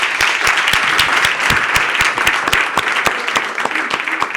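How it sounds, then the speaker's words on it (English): Audience at a conference plenary session applauds the panelists with steady, dense clapping of many hands, moderately loud and continuous. "a big round of applause for our panelists"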